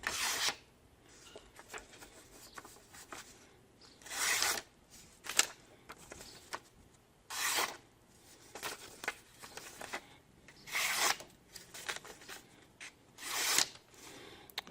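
WC Knives Super Slicer blade slicing through beaver hide, repeated short rasping cuts in irregular strokes, with faint handling noise between them, close and quiet.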